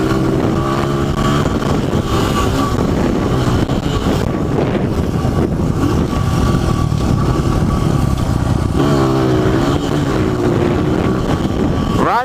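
A 250cc dirt bike engine roars continuously while being ridden, loud and close throughout with steady wind buffeting the microphone, the revs rising and falling as the rider shifts.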